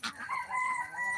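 A blue-red rooster named Gary gives a short, faint crow, heard alone at a modest distance.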